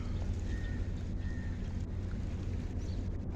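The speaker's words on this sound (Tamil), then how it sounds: "நல்லா காற்று அடிக்குது" Strong wind blows in a constant, rushing stream at the Tanjung Harapan seaside in Port Klang, a dense and unbroken roar with no voices.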